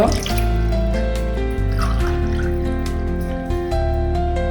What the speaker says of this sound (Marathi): आता तांदूळ घेतलेले त्या मापान दुप्पट उदक घालता आणि गरम करून दवरता.